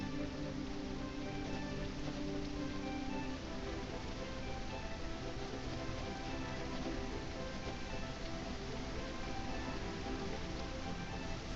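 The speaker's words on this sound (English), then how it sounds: "it's raining" Rain falls in a steady, unbroken hiss that stays even and fairly close throughout, with a low droning hum underneath and no voices.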